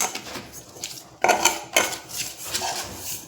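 A cooking pot is handled and clanked on a kitchen surface while oil goes in for a zebra cake, with two sharp close metal knocks amid softer scraping and rattling.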